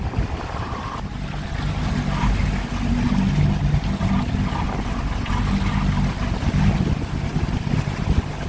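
A sailing boat runs along the Turkish coast near rocky shores, with a steady heavy rush of hull, waves and spray mixed with strong wind buffeting the microphone, continuous and close.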